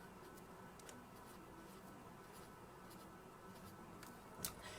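Chalk or marker scratches across a board in a series of short strokes during a chemistry lesson, faint and close, with no voice.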